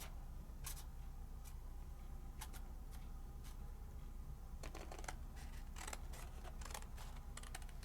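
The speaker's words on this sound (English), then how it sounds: "So I'm going to snip this side off," Scissors snip paper or rice paper around a craft die cut, giving several short, crisp clips in irregular bursts over a quiet, steady background hiss.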